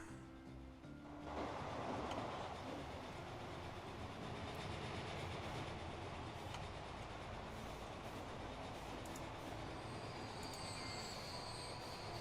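A train runs in the Transport Fever video game with a steady rumbling roll and wheel squeal. High metallic clicks and squeaks come over a constant bed of rail noise.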